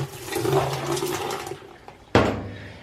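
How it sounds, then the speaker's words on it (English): White distilled vinegar is poured into a washing machine, a close, splashing liquid rush for about a second and a half, a brief lull, then a sudden loud gush of water that tapers off. "Put a cup of vinegar into your washer."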